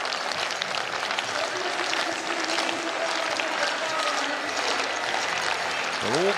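Stadium crowd at the European Athletics Championships in Birmingham clapping steadily behind a high jumper on her attempt, a dense, sustained patter of applause with a voice talking over it.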